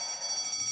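A shrill electronic alarm system blares in the video game Deponia, a steady high-pitched tone ringing continuously and fairly close, with no voices over it.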